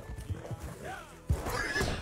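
A fast video game horse neighs with a rising whinny while galloping, followed by a louder burst of horse noise and hoof sounds, fairly close and steady over a low rumble.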